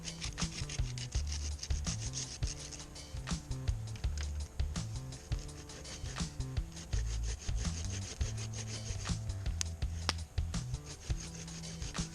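A hand saw cuts through wood at a snowy winter woodland camp, with steady back-and-forth rasping strokes close up, continuous for the whole stretch with no talking.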